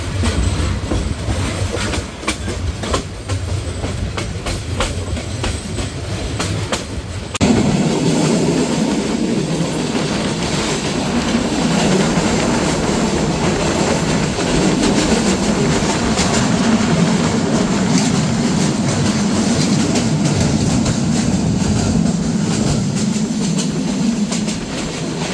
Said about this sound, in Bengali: নির্ধারিত 2 মিনিটের যাত্রাবিরতি শেষে ট্রেনটি ছেড়ে যাচ্ছে শামসেরনগর রেলওয়ে স্টেশন